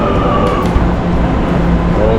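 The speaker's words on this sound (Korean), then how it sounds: "지하철 바로 왔다." Subway train arriving at a Guadalajara metro station, a loud steady rumble with squealing tones, close and continuous for the whole span.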